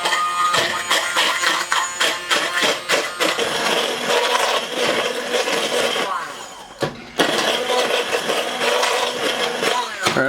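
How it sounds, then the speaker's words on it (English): An immersion blender running on low whirs and churns through a chickpea stew, a close, steady grinding with a short dip midway before it resumes. "I'm going to bring our fantastic immersion blender over here"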